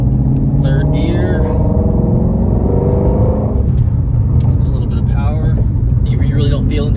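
A 2016 Shelby GT350 Mustang accelerates hard in third gear, its loud engine note climbing in pitch, briefly dropping, then rising again close up.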